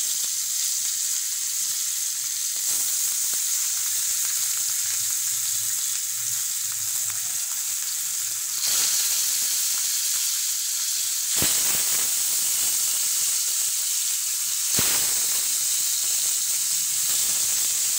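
Pieces of rui fish frying uncovered in a pan in a Bangladeshi home kitchen, a loud continuous sizzle and hiss with brief sharp bursts of spatter, close up, without any talking.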